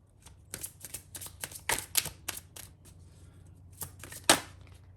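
Playing cards being shuffled at a table, a run of quick riffling bursts with a louder flurry in the middle and a final sharp snap, close and fairly quiet against a low steady hum.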